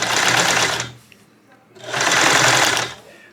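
A sewing machine stitching two suspender straps together, running in two loud steady whirring bursts separated by a short quiet pause, close by.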